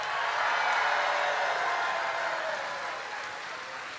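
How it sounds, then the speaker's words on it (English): An audience applauds school board candidates at a Joe Biden event at MiraCosta College in Oceanside, a dense, even wash of hand claps that holds steady and then gradually fades toward the end. "Let's give a big round of applause to all of the great candidates"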